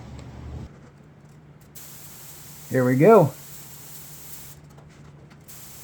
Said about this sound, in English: Starting with the roof, I'm trying to get a spray pattern down.